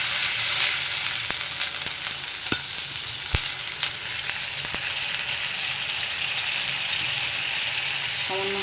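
Steady, loud sizzle of egg-recipe ingredients with ginger frying in a pan with a little added water, a continuous crackling hiss broken by occasional sharp clicks of a utensil stirring against the pan, no voices.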